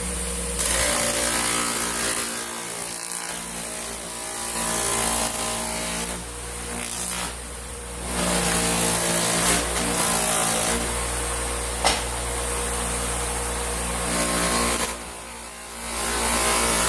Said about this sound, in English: First thing I'm going to do is emery compound this wheel and just try a test piece on this.